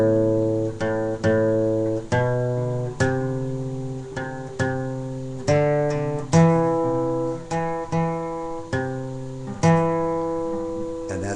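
A guitar plays the second part of a song, about a dozen plucked and picked notes ringing one after another in a steady, moderate rhythm, each note decaying before the next. The playing is clear and close, with no talking over it.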